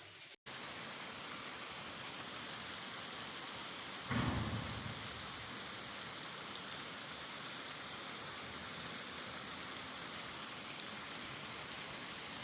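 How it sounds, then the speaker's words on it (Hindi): Heavy monsoon-style rain pours down steadily in a continuous hiss, and a single rumble of thunder rolls through a few seconds in, with no voices over it. "आपने बहुत ही मज़े की बारिश हो रही है, अल्लाह ताला की रहमत बरस रही है।"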